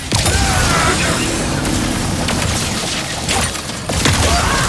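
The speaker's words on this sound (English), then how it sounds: "The Shatter Bomb is a frag-type grenade that deals a lot of damage to your foes." Shatter Bomb frag grenades going off in Ratchet & Clank: Rift Apart on PS5, loud dense blasts and crashing debris layered over continuous game action, close and busy with no clear pauses.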